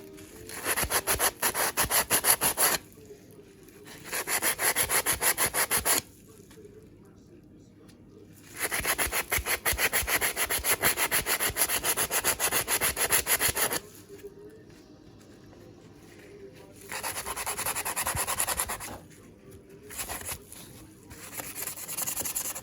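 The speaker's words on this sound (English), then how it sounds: "So we'll start off with this screwdriver, and obviously I'll give this a good clean as well." An old rusty screwdriver is scrubbed by hand, giving loud rasping strokes in rapid rhythmic bursts of several seconds each, separated by brief quiet pauses.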